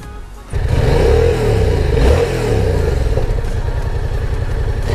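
A Yamaha MT07 twin sits at idle, then its revs climb sharply and sweep up and down before it settles into a lumpy, pulsing idle again, heard close with no talking.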